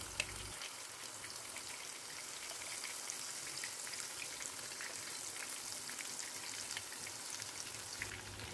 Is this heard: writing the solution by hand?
no